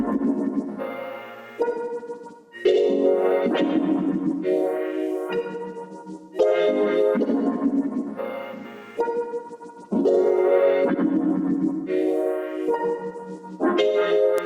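A beat's piano melody, processed with halftime and other effects and with console EQ up to about 200 Hz, plays in repeating chord-like phrases that swell and fade in a slow, steady rhythm, with no voices.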